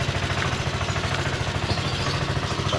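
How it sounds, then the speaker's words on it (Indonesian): A Sym GTS 250i scooter engine idles steadily up close, a low, even, rhythmic putter with light clatter throughout. "coba kita hidupkan mesinnya ya."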